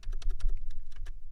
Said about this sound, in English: So I typed it in